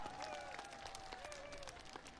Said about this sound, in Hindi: हाथ उठाकर तालियों की गूंज में बताइए कि इमरान खान से आपको कितना प्यार है